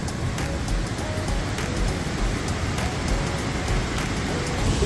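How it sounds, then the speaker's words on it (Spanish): Rain falls steadily over outdoor hot-spring tubs in Pucón, Chile, a dense continuous hiss and patter with no break and no talk. "Mientras cae la lluvia."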